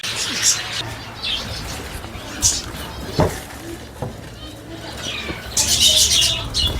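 Five-month-old pet birds kept at home coo softly and flap their wings in short bursts, with faint chirps scattered throughout and a louder flurry near the end.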